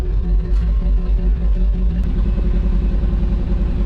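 A broken-down 1988 GMC Sierra 3500 truck creeping along in gear, giving a steady, close, low engine rumble with light clatter throughout.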